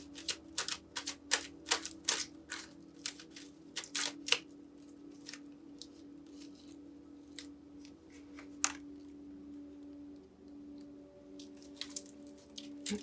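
Oracle cards handled and shuffled during a tarot reading, sharp close clicks and snaps in irregular bursts over a faint steady hum, thinning out toward the end, no voices.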